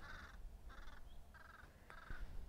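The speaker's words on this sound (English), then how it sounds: "Crow in the background." A crow caws four times in a slow, even rhythm on a golf course, somewhat distant and moderately loud, with faint outdoor rumble beneath and no talking.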